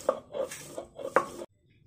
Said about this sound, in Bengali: তো এখন এটাকে আমি পাটায় পিষে নিব।